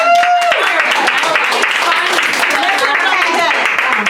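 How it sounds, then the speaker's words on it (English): Audience at a live talk show clapping on cue from the host, a steady wash of applause from a room of people with some voices and cheers mixed in. "If you're having fun, clap it up."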